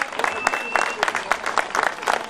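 Crowd applause at a road cycling race, a close, lively burst of many hands clapping with scattered voices mixed in.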